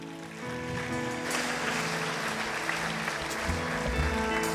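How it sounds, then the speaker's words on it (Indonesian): Church congregation applauding together, a steady wash of many hands clapping that fills the room and runs continuously at moderate loudness. "Berikan tepuk tangan saat ini."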